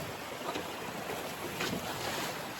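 A sailboat under full sail moves through open water in a fresh breeze, with a continuous rush of wind and water wash.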